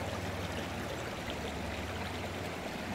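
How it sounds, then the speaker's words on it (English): Water is poured steadily into a flameless ration heater pouch outdoors, a continuous close, fairly loud splashing rush with no talking. "you take the water and you dump it in here, and it activates all the heating chemicals"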